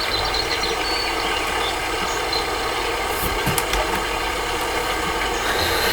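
A tractor engine idles steadily at close range in Farming Simulator 2015, giving a constant mechanical hum with a few small clicks and clanks.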